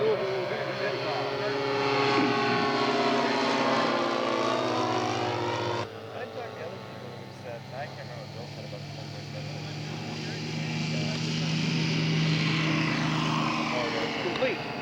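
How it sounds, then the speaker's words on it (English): Scale model propeller aircraft engine during takeoff at a scale aircraft show, a steady loud buzzing drone that shifts pitch as it climbs away, with an announcer talking over it. "Next maneuver will be the takeoff."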